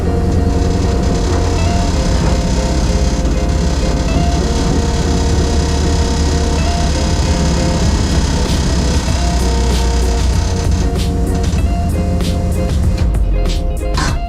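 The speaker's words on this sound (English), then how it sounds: "Apologies about the noise that pump's making." A pump whines continuously inside a small red car on its way to an MOT test. The steady tonal hum and drone sits loud and close over the driving noise and fades near the end.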